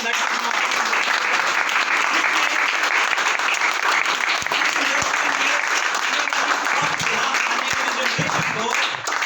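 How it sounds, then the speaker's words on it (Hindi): Loud, sustained applause from a large crowd at a direct-selling meeting, dense clapping that continues unbroken throughout. "तो जोरदार ताली होनी चाहिए।"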